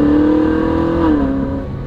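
Ferrari 458 climbing a mountain pass above St. Moritz in Switzerland, a loud, steady engine drone with a sustained tone that dips slightly, heard close and alone.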